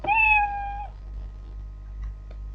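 A single clear cat meow from the Scratch programming language, drawn out for nearly a second, followed by quiet background hum.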